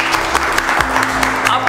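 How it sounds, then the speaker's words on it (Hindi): Brief burst of audience applause in a mobile chip-level training class, quick close claps over a low electrical hum, with a voice speaking over it. "इनके जोरदार ताली बजाइए।"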